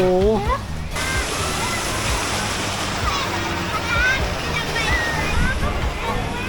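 Waves surge and slosh across an artificial sea wave pool at The WAVE water park in Pattaya, a steady broadband wash of water with splashes and excited voices talking and shouting throughout.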